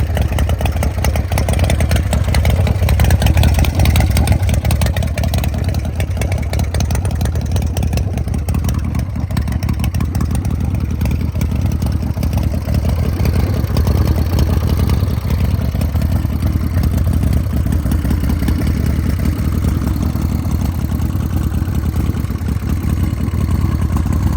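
A Harley-Davidson FXR motorcycle engine rumbles steadily at close range, a loud continuous idle with a slightly uneven, lopey beat throughout.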